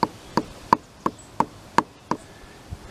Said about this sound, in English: so now I'll just, using a socket, tap it